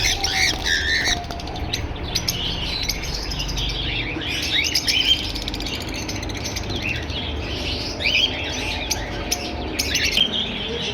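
Caged pet Java sparrows, including silver and grey breeder pairs, chirp and squawk continuously in a busy, overlapping chorus of sharp calls, with louder bursts at intervals and no talking.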